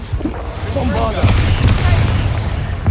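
Bombarda spell blast in the Hogwarts Legacy video game, a booming explosive burst with rumbling debris amid continuous combat noise, voices heard over it.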